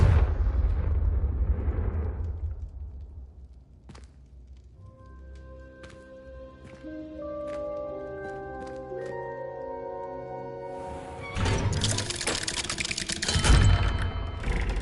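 Confringo fire spells blasting in the Hogwarts Legacy video game: booming explosive bursts open and close the stretch, with a swelling orchestral score playing between them.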